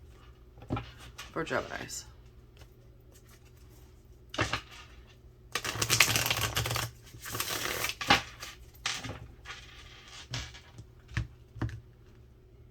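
Tarot cards being shuffled during a reading, giving bursts of papery riffling and flapping, loudest in a dense run midway, with someone talking around and between the shuffles.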